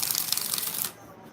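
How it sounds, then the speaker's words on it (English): Tarot cards being shuffled, a quick close burst of crisp riffling clicks lasting under a second, then quiet. "3 more shuffles."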